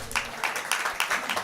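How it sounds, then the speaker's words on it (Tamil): An audience claps hands steadily in a short, quick burst of evenly spaced claps, moderately close and loud, with no other sound standing out. "கைத்தட்டலாமா?"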